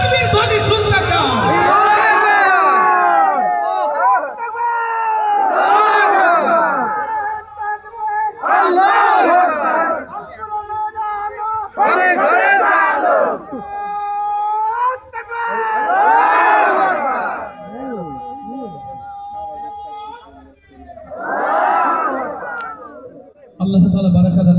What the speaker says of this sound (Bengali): কারা কারা তাকবীর ধ্বনি শুনতে চাও?